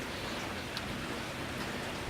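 Steady rain falling during Hurricane Harvey, a dense continuous hiss of drops on surfaces with no pauses, even and moderately loud throughout, no voices.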